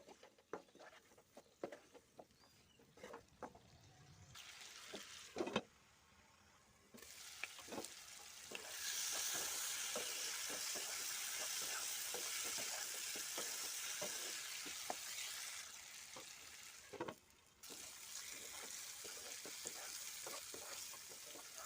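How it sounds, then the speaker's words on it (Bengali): Raw jackfruit with chana dal being sautéed in a pan, a steady close sizzle that swells and holds, broken by scraping stirs and clinks of the spoon, with no speech. "এবারে এগুলো ভালোভাবে কষিয়ে নিতে হবে"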